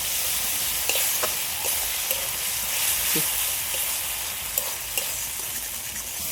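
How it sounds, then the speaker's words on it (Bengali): Cumin and coriander powder masala cooking down in oil with a splash of water, a continuous bright sizzle with occasional soft stirring knocks and scrapes spread across, fairly close, no talking. "মশলাটা তো ভালো করে কষানো হয়ে গেছে মশলাদের তেলও ছেড়ে দিয়েছে"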